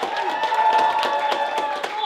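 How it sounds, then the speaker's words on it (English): Applause from a live comedy show audience, steady clapping from a crowd mixed with a host's voice over it, close and continuous. "Can I have a massive round of applause?"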